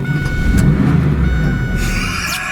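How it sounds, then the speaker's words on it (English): A Firebird Formula's LT1 V8 fires up, its deep rumble settling into a steady idle right up close, with a faint high whine riding above the engine. "There's that LT1 firing to life."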